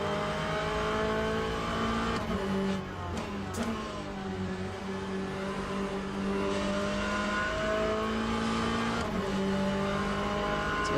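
Race car engines in the Le Mans Ultimate sim, a BMW closing in from behind, droning steadily with harmonic whine rising and falling through gear changes, loud and continuous with no talk.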